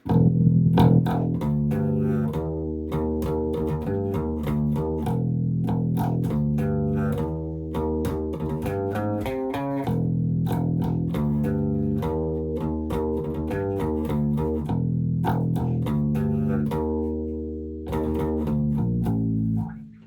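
Bass guitar riff from a song, played alone as four repeating parts in a steady, driving rhythm of low sustained notes, loud and close throughout.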